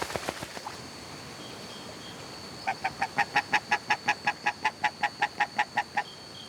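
Muscovy ducks at a river shore in Guyana during their molting season, giving a steady run of about fifteen evenly spaced, loud, nasal honking calls after a few scattered quieter notes, over a constant background hiss.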